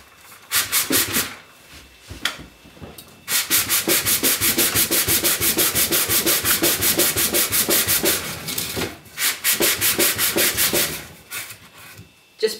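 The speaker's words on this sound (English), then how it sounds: "you want to sand with the grain" Wood being hand-sanded with fine 240 grit sandpaper for a light finishing pass, with brisk, steady back-and-forth rasping strokes in close-up, two short bursts early, then a long even run with brief pauses.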